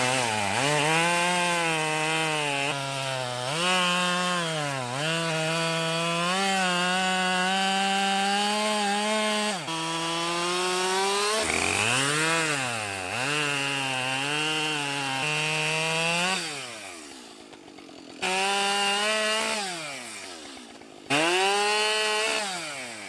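A Husqvarna 572 XP chainsaw cuts wood outdoors near thorny brush, its engine revving loud and close in repeated rising and falling surges as the chain bites, with brief dips between cuts.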